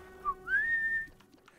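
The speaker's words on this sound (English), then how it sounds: "Love the brownie whistle," A short whistle from The Binding of Isaac video game: a brief chirp followed by a rising, sustained whistle tone lasting about half a second, clear and close over faint background.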